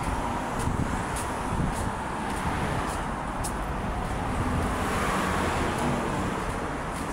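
Steady, heavy wind roars and buffets the microphone throughout, a dense broadband rush with no voices.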